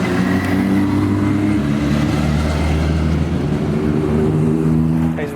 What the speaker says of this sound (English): Those are the bikers from the cafe, off for their Sunday ride